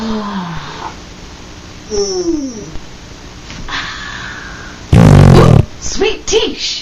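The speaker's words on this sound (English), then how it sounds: "Did you just fart?" Amid animated characters chatting, a single loud, buzzing fart erupts for about half a second, followed by some short squeaky vocal noises.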